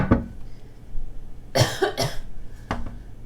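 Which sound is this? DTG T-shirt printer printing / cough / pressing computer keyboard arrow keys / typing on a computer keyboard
cough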